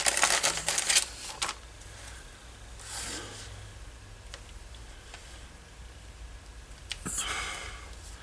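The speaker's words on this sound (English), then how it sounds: "I'm just going to use some tape because I can peel that apart." Tape pulled off a roll and pressed onto leather holster pieces, a few raspy tearing strips and crinkles between quieter handling and faint breathing, close and soft.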